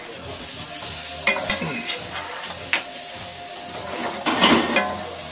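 Beef tenderloin sizzling on a barbecue at a July party, a steady close frying hiss broken by occasional scrapes and clinks, with faint talk in the background.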